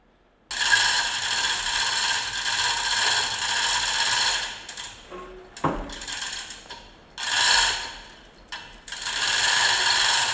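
An assembly being worked loose and pulled from an old John Deere "Amazon" cane mill, giving long close grinding, scraping metal ratchet sounds broken by short pauses and a sharp clunk midway.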